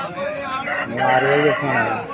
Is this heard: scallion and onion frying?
no